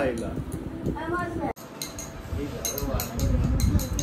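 Steel bowls and spoons bought cheaply at a fair clink and rattle as they are handled, with light metallic chinks close by beneath someone talking.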